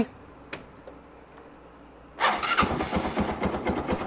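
A Honda Wave 125 motorcycle engine starts after a quiet stretch with a couple of clicks, then runs close and loud with a rough, uneven idle, with no talking.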